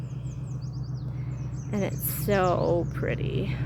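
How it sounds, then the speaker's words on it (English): Birds sing by a river at sunset, with high chirps and trilling song phrases over a low steady hum as someone speaks briefly. "I get to hear the birds sing."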